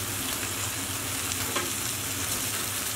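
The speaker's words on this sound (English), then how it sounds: "So now we're adding our buns into the pan to get those lightly toasted." Burger buns toasting in a hot frying pan give off a steady, even sizzle close up, continuous with no talk over it.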